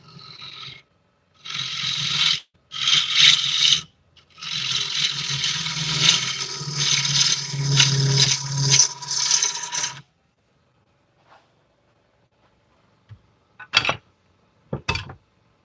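Butternut wood turning on a lathe, loud rough scraping bursts of the tool cutting in several passes separated by short gaps, then near silence broken by a few brief knocks.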